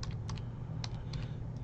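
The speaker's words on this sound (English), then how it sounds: "typing with one hand is kind of annoying" One hand types on a computer keyboard, sparse close key clicks in an irregular rhythm over a low steady room hum.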